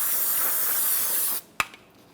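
Parts cleaner sprayed onto the bearing mating surface of a 2004-2008 Ford F-150 front wheel hub, a loud steady hiss for over a second that cuts off sharply, followed by a brief knock.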